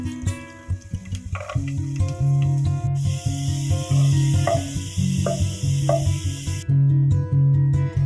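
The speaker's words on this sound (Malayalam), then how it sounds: "ആവശ്യത്തിന് വെളുത്തുള്ളി ഇട്ട് മൂപ്പിക്കുക" Garlic frying in about three spoons of coconut oil for a mango pickle, a steady broadband sizzle that rises partway through and holds for several seconds beneath loud continuous background music.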